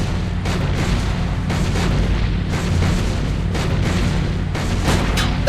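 Gunfire aimed at a marble Abraham Lincoln statue in the Sam and Max Save the World video game, heard as a steady run of heavy booming bursts over a dense, rumbling background with no talk.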